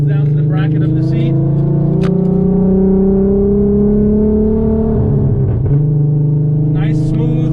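An Audi RS3 with an R30 VR6 engine and DQ500 transmission, manually shifted, drones loudly from inside the cabin, a steady humming engine note that rises, dips with a gear change, then settles again.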